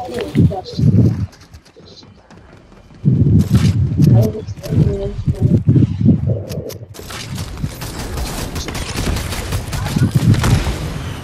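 Video game gunfire rattles in clustered bursts of sharp shots, some rapid like automatic fire, loud and close, while players keep talking over the shooting.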